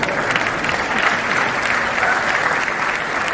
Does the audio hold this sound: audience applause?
yes